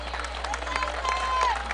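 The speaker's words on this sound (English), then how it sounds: "Nice round of applause as Cooper walks off the field after pitching everything he can" Polite applause and crowd noise at a high school baseball game as pitcher Cooper leaves the field, steady scattered clapping from the stands with some voices mixed in.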